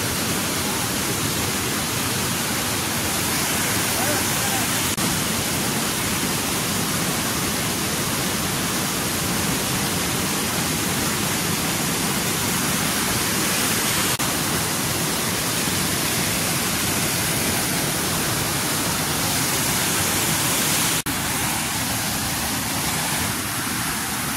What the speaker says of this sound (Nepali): यो हो हाम्रो झरना